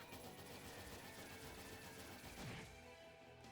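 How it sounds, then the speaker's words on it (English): Rapid bullet barrage attack from the Trails in the Sky the 3rd video game, a dense, continuous rattle of gunfire-like hits under game music, swelling near the end before fading. "Let's do it for bullet barrage first"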